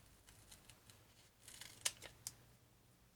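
Scissors snip through sticky craft pads still on their backing sheet, giving a series of quiet, close cuts with a couple of sharper clicks, alone without talk.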